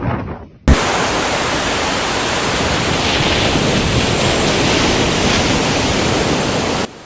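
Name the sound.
large ocean waves hitting the coast in Brazil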